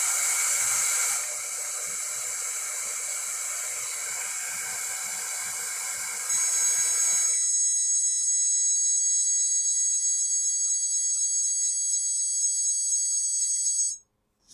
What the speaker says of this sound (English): I want to have something that turns on an alarm when it gets too hot